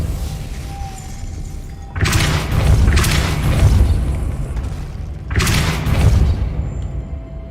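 Depulso force spell from Hogwarts Legacy, heard as two loud, broad whooshing impacts a few seconds apart, each a sudden burst that swells and slowly fades over steady low game ambience.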